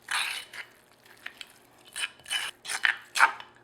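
Grated parmesan stirred into pesto in a stone mortar: a series of separate gritty scraping and grinding strokes, close and fairly crisp, separated by short pauses, with no voices.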